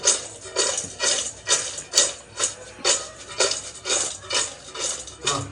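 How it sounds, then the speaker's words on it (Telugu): Seasoned homemade french fries are tossed in a bowl, about a dozen evenly spaced rattling clatters and scrapes in a steady rhythm, close and moderately loud, with no talk. "ఇట్లా ఎగరేస్తుంటే మంచిగా మిక్స్ అవుతాయి"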